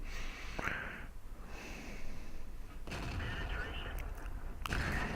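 Heavy tank cannon shots from World of Tanks gameplay, likely a Tiger II's gun, boom out as three sharp blasts spaced a couple of seconds apart over a constant rumble, with someone talking throughout.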